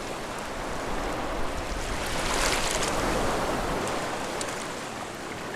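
Storm surf and wind rush over coastal sand dunes in a steady, broad roar that swells slightly midway, with no voices.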